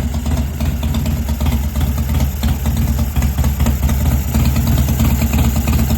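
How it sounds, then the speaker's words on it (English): A 1988 Harley-Davidson Springer Softail idles steadily after a Mikuni carburetor rebuild, a loud, close, even low rumble with a regular loping pulse for the whole stretch and no voices. "It runs beautiful."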